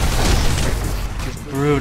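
Heavy explosions and booming blasts in the Army of Two: The Devil's Cartel combat game, dense and loud for the first second, then easing as a voice comes in over the battle.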